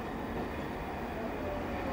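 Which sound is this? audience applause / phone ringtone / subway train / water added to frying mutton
subway train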